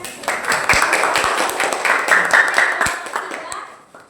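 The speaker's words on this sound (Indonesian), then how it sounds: "berikan tepuk tangan" A classroom full of people claps steadily for a few seconds, the applause gradually thinning out at the end.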